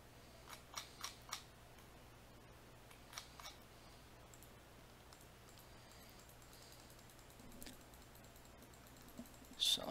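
Mouse clicks skipping through visual novel dialogue in Doki Doki Literature Club, a few quick faint clicks clustered near the start, then sparse scattered clicks over a steady low hum.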